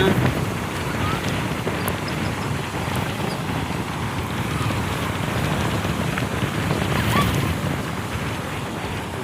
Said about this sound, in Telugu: ఇప్పుడు ఇది గాలి ఏంద్రా